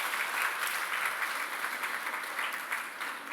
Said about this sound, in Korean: 다시 한번 박수로 축하해 주시면 감사하겠습니다.